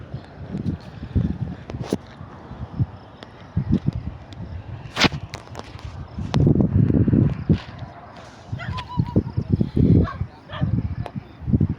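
A black dog barks outdoors around sunset, several loud, irregular barks at close to middle distance, mixed with footsteps, sharp knocks and some background voices.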